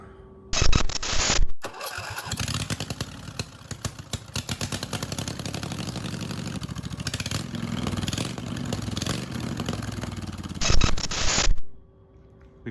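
A van engine cranks briefly, catches and runs at a steady rumble for about ten seconds, with louder bursts at the start and end before shutting off, heard up close in a workshop during a Murray teardown.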